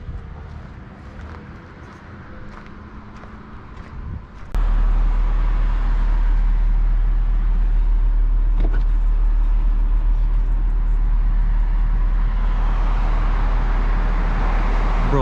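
From inside a straight-piped 2006 Mercedes CLS 500 W219 while driving, a quieter cabin hum gives way to a loud, deep, steady exhaust drone that holds for the rest of the run.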